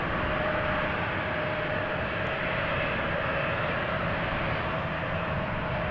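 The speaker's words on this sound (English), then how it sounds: "Air France up, Embraer 170," An Air France Embraer 170 jet takes off at Amsterdam Schiphol, a loud, steady broadband engine roar with a faint tonal whine held constant throughout, with no voices.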